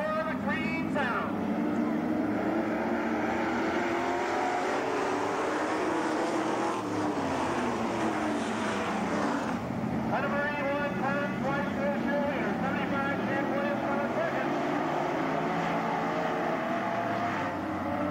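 Late model stock cars racing in a heat on a short oval track, engines roaring continuously and loudly throughout, with an announcer talking over the racing noise.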